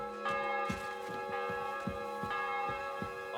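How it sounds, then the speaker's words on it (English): A church bell tolling in the medieval game Kingdom Come: Deliverance 2, steady repeated ringing strokes with long humming overtones blending together, moderately distant and unaccompanied. "Bell's ringing for hands the 5th time."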